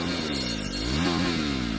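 A motorcycle engine rumbles close by as it is kicked over, its pitch rising and falling through a brief rev, with the exhaust clattering.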